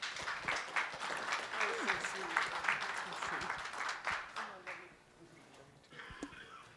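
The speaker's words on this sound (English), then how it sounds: "So one more round of applause, Miss Winona LaDuke." An audience at a Wisconsin cannabis industry and policy summit claps in sustained applause that fades out over several seconds, with faint voices near the end.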